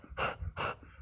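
Someone imitates a dog panting with their voice, two strong breathy huffs, close and fairly loud, separated by a short pause.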